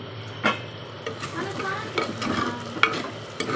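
Chopped tomatoes go into a pot and fry with a soft sizzle, while a spoon stirs and scrapes against the pot in scattered close clinks and knocks.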